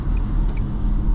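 Car engine droning low and steady while driving with a single occupant, a close, continuous rumble with no talk over it.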